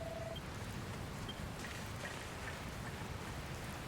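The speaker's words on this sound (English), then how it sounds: "Oh no, rain! Ah, and lightning!" Steady rainfall in the Dragon Quest Builders 2 game, a dense unbroken hiss that fills the whole stretch at even loudness, with no clear thunderclap standing out.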